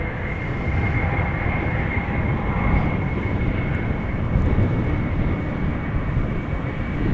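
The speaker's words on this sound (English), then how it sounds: "The other narrow bodies that were taxiing this way have in the meantime arrived and are also going to take off from the runway threshold." Narrow-body jet airliners taxiing at Amsterdam Schiphol Airport produce a steady, broad engine roar and rumble at moderate distance, continuous with no breaks and no voices.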